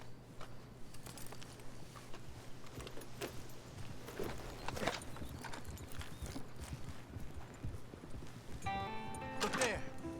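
Horse hooves clip-clop at an unhurried walking rhythm along a dirt track in the Red Dead Redemption 2 game world, steady and fairly close, with faint jingling tack and a brief whinny-like tone near the end.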